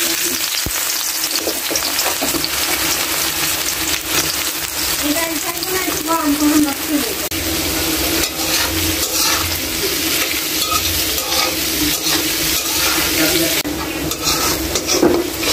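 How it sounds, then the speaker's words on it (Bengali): Onions frying in hot oil in a wok for mustard hilsa, a steady loud sizzle with occasional stirring scrapes and clinks of a utensil, close up, with no talking. "সরিষা ইলিশের জন্য কড়াইয়ে তেল দেওয়া হয়ে গেছে, এখন আমি পেঁয়াজ দিব"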